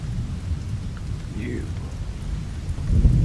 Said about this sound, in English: God, I hate rain.